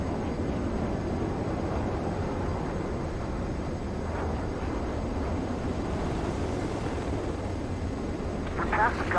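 A fighter jet in the video game Ace Combat 7 approaches a runway to land. The engine gives a steady, muffled, rushing roar throughout, with voices talking over it.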